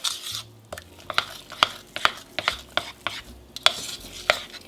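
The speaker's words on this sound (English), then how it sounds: "I happen to prefer a metal spoon for the first initial combining of this particular mixture" A metal spoon stirs and scrapes through a thick peanut butter fat bomb mixture in a bowl, giving a steady series of sharp clinks and scrapes about every half second, close and clear with no talking.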